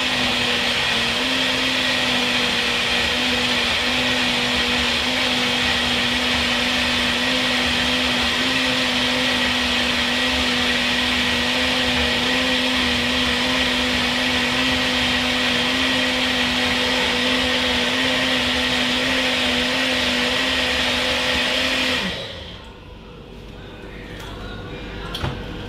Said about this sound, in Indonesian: Ini blender yang terlalu bagus buat bumbu sebenarnya.